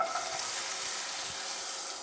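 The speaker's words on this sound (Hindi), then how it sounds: "पैन में डालेंगे 2 टेबलस्पून ऑयल, एक छोटी चॉप प्याज" Chopped onion fries in two tablespoons of oil in a pan, a steady close hiss of sizzling with soft stirring scrapes underneath.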